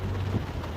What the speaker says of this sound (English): the big drops are the drops coming from the trees when you drive under the trees